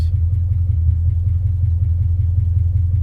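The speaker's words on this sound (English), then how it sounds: "Idling at 800 RPMs." A car engine idles at 800 RPM with a steady low rumble and faint rhythmic pulsing, close by and unbroken, with no voices.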